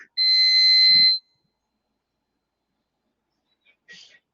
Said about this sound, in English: you can guess all the way through the buzzer, but not after it